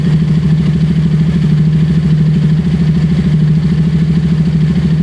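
A KTM Duke 200 motorcycle engine idles steadily and close after a stator replacement, a loud, even low rumble with a fast regular pulse and no talk.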